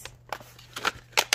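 Plastic packaging around a set of gel pens crinkles and snaps in a few short, crisp bursts up close, with quiet gaps between them and no talking.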